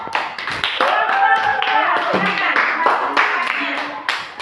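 Students in a classroom clap their hands in a quick, rhythmic burst of sharp claps, heard close and mixed with voices talking at the same time.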